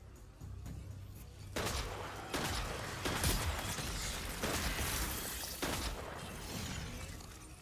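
A hand cannon fires repeatedly in Destiny 2, loud cracking shots spaced about a second apart, each with a harsh burst and short tail over a low ambient rumble.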